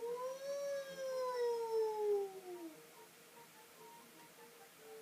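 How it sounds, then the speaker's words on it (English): An alarm siren in the video game The Legend of Zelda: The Wind Waker HD, a single wailing tone that slowly slides downward over a few seconds before fading to quiet game ambience. "Siren."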